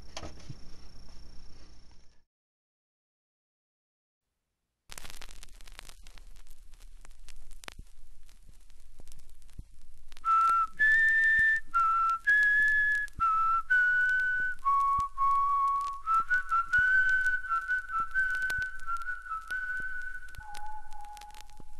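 A person whistles a wandering melody of sustained, sliding notes after a brief pause, clear and close with a slightly hissy background, played from a plastic flexidisc on a Pioneer PL-L70 turntable.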